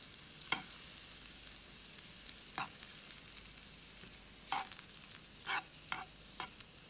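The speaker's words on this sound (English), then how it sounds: "flavor the oil with 2 garlic cloves, thinly sliced. And heat it until it gets really quite hot." Thinly sliced garlic cloves frying in very hot sesame oil, giving a soft, steady sizzle with a few sharp crackles and pops scattered across it, quiet and close with no talking.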